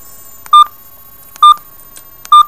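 Three short, loud electronic beeps evenly spaced less than a second apart, a bright repeating phone alert tone over near silence.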